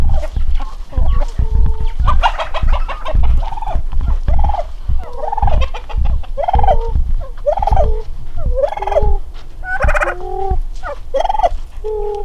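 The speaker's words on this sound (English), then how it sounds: "she's over playing with the turkeys" Farm turkeys gobble repeatedly in loud, close, bubbling bursts, with clucking fowl and soft scuffling between calls.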